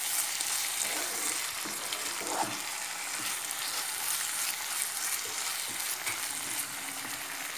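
Ginger and garlic paste sizzles hard in hot oil with browned onions for a jackfruit curry, a steady dense frying hiss with occasional stirring scrapes, close and continuous throughout.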